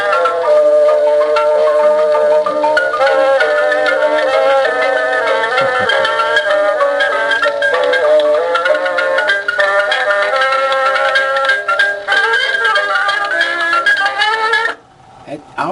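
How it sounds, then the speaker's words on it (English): An old phonograph at the Pavek Museum plays back a wax cylinder: continuous loud, warbling recorded music with wavering pitch and a hissy top that runs steadily before cutting off near the end. "This can be played back on a machine"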